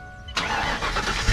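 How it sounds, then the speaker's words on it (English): A car engine cranks and fires after a short quiet stretch, then settles into a loud, throaty rumble through an old-school exhaust, close by and with no talking. "We need to let them hear that exhaust a little bit better."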